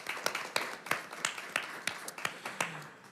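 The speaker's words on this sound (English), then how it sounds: "let's give her a round of applause" Sparse applause at a school board of education meeting, a handful of people clapping in a steady, evenly spaced rhythm, fairly close and modest in volume.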